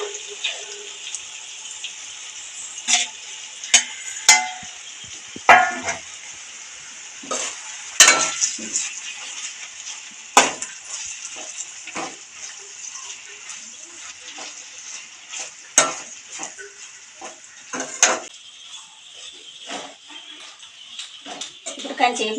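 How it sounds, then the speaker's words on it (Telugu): Ivy gourd (dondakaya) pieces tossed into a hot pan for a village-style curry, with steady frying hiss and repeated sharp scrapes and clinks of a spoon stirring against the pan. "ముందుగా పెట్టుకున్న దొండకాయలు వేసుకుందామండి."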